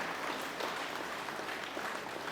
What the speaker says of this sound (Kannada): ಚಪ್ಪಾಳೆಯ ಮೂಲಕ ಅವಳಿಗೆ ಪ್ರೋತ್ಸಾಹವನ್ನು ಮಾಡಬೇಕು